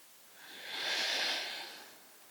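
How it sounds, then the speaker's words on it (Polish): One slow, deep breath during a basic yoga practice, a soft airy rush that swells to a peak and fades away, close and quiet with nothing else heard. "Pełny wdech, pełny wydech."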